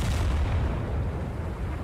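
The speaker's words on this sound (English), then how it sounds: "That's a grenade launcher, I think." Grenade launcher fire in a wartime strategy game: a continuous, heavy low rumble of booming detonations, loud and close throughout the short stretch with no voices.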